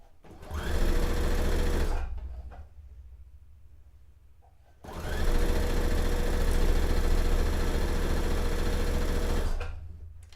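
A sewing machine stitches a white dress in two long, loud runs with a short pause between them, the motor whirring steadily close by.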